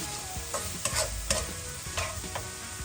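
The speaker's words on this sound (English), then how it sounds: "So let's saute this for about 2 minutes." Chicken seasoned with salt and chaat masala is sautéed in a pan, with a constant sizzle broken by repeated scraping and clanking strokes of a stirring utensil, close up and without speech.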